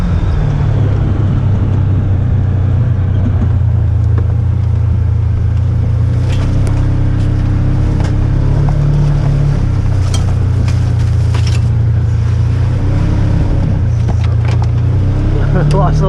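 A 2021 Polaris Ranger 1000 EPS UTV driving at night, a loud continuous low engine drone with shifting revs as the tires lose traction, close up, with people talking over it.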